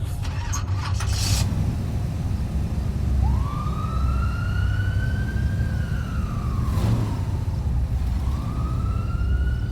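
A newly replaced hearse siren rises and sweeps in long wailing tones, close by, repeating over a steady engine rumble, with a brief clatter at the start.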